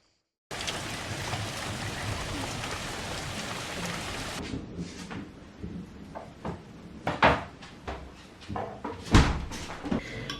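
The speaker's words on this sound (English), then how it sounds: "It's raining today" Steady rain falls throughout, a dense hiss that thins after a few seconds, with occasional knocks and bumps from nearby activity during an outdoor homestead bathroom build.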